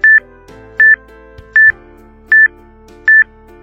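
Five short, identical electronic beeps from a Zoomax Snow 7 HD electronic magnifier sound at an even, steady pace, crisp and close against near silence.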